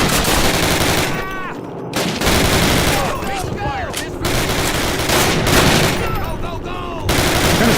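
Call of Duty gunfire: dense, loud bursts of rapid shots rattle almost continuously, broken by a few short gaps, with distant shots and whizzing ricochets mixed in across a busy battlefield.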